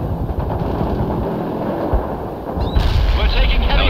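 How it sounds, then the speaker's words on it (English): Armor units firing armor-piercing rounds in the real-time strategy game World in Conflict, heavy booming cannon shots and rumbling battle noise throughout, with a louder burst near the end, under a dense, continuous wash of combat sound. "Firing armor-piercing rounds at the target."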